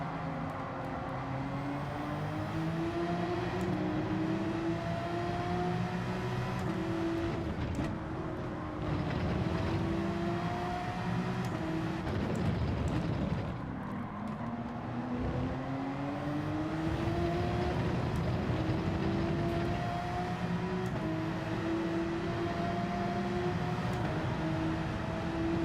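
A race car engine in Gran Turismo 7 holds a continuous, droning tone that rises and falls in pitch with shifting revs, staying fairly loud and steady throughout with no speech.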